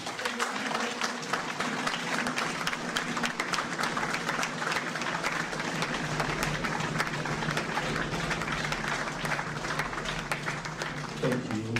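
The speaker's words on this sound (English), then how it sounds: "Thank you for that sustained applause." Sustained applause from a large audience at a Nigerian peace advocacy event, honouring a police commissioner after a call for a standing ovation; steady, dense clapping throughout with crowd noise, fading slightly at the end.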